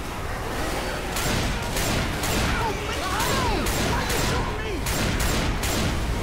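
Rapid bursts of gunfire from the Left 4 Dead 2 co-op shooter crackle in a steady repeating rhythm, loud and close, over a noisy game backdrop while a player talks.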